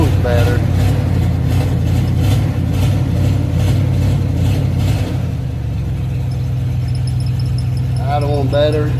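A car engine idles in a backyard, a steady low rumble that holds even and close throughout, with brief faint sounds near the end.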